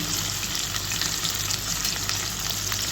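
Onion, garlic and ginger frying in a pan, a steady dense sizzle with faint stirring scrapes throughout, no voices.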